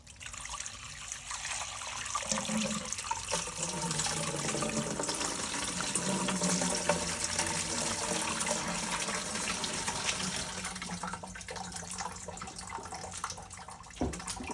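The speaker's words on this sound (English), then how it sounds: "I don't know if I've got enough water in this bucket, but let's try and see." Water poured from a bucket runs through a homemade clear sluice, a steady, fairly loud splashing flow that continues for the whole stretch with no talking over it.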